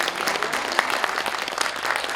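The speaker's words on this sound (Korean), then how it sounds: "박수 부탁드리겠습니다" A short burst of steady audience applause at a literary festival award presentation, many hands clapping together at even volume.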